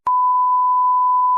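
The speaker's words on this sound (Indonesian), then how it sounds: "Alarm kepencet guys" A steady electronic alarm beep sounds as one loud, continuous pure tone lasting over a second, alone with no talk.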